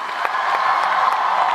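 Dense crowd applause and cheering at a live concert in a hall, loud and steady with scattered whoops rising over the clapping.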